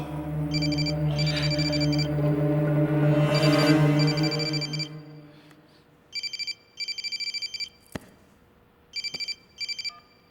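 A phone rings in a movie scene, first under a swelling low music bed, then alone as repeated bursts of electronic ringing with short pauses between them.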